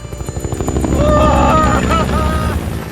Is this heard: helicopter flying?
yes